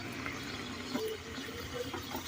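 Water from cooked ragi mudde being poured off in a kitchen, a faint, soft trickle and splash of draining liquid with small bubbling sounds, steady and quiet with no speech over it.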